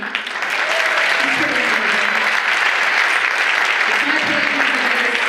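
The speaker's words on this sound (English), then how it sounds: "would you give a round of applause to my mother, Tracy?" An audience at an inspirational breakfast event gives a round of applause for a speaker's mother, a loud, dense, sustained clapping from many people that swells quickly and holds steady, with faint voices mixed in.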